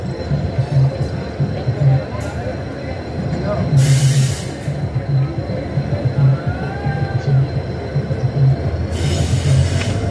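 An Indian Railways parcel express train runs past close by with a heavy continuous rumble, clattering wheels, bursts of hiss and faint wheel squeal.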